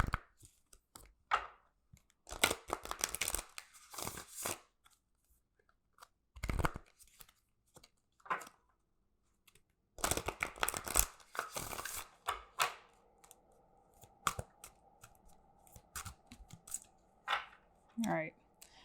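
Soft, intermittent shuffling and riffling of oracle cards in short bursts, close and quiet, with pauses between and faint murmuring in the background.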